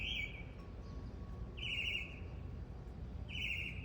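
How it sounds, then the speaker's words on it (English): Spring birdsong in a garden during rain: a single bird repeats a bright, buzzy trilled phrase three times at regular intervals over a steady low rumble of rain. "Hear the birds singing?"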